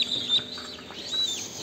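Chinese silkie chicks peep in a series of short, high chirps close by, over a faint background hiss, with no talking.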